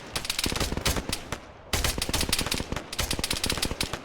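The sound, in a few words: gunfire hitting a soldier in a video game (Arma, Zeus)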